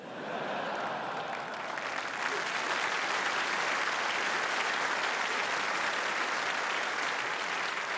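An audience at a political leader's speech applauds, a dense, sustained roar of many hands building and holding steady, moderately distant.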